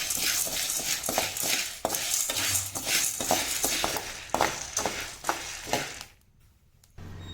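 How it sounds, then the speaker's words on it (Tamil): Black chickpeas dry-roasting in a pan, about a quarter kilo, with continuous scraping and stirring and dry rattling of the legumes against the metal, close and steady before dropping off near the end. "கருப்பு சுண்டல் 1/4 கிலோ எடுத்து வச்சுருக்குப்பா, வாசம் வர்ற வரைக்கும் வறுத்துக்குருவோம்"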